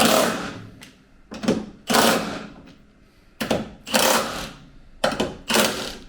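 A pneumatic rattle gun fastens bolts on a Land Rover Defender's rear bumper, firing several sharp, close bursts of rapid hammering separated by short pauses.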